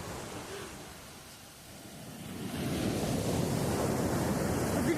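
Stormy sea waves break on the beach at Scalea, Calabria, a broad roaring wash that swells from a softer lull into a loud, sustained surge, with wind noise buffeting the microphone.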